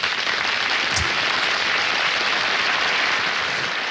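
Steady, dense audience applause for a comedian at a stand-up show, a continuous wash of many hands clapping at even loudness for the full stretch, with one brief sharper accent near the start.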